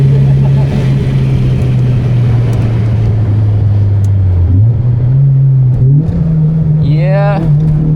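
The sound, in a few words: rare tuned Honda car engine revving in fifth gear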